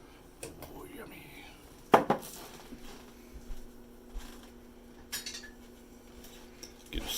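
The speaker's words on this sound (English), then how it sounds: "Give it a little bit of a stir." A spoon stirs a meatloaf mixture of cracker crumbs and milk in a bowl, giving scattered clinks and scrapes against the dish with a sharper knock partway through, close and fairly quiet.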